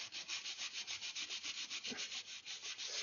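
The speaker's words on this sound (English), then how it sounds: "I'm going to take a piece of sandpaper" Sandpaper rubbed by hand over a wooden swivel breech rifle kit part, smoothing a sloped transition; steady rhythmic back-and-forth strokes, close and fairly quiet, about six per second with no talking.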